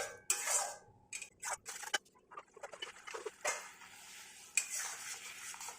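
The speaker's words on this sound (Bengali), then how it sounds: "মিডিয়াম আছে দইটাকে এরকম নাড়তে হবে।" Yogurt being stirred in a pan over medium heat for dohi katla, with irregular scraping and tapping strokes against a faint bubbling sizzle, close but fairly quiet, no one talking.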